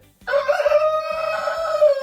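A rooster crows loudly and close by in a farmyard in Piedmont, one long drawn-out call over a steady rhythm of clucking hens, with no talking.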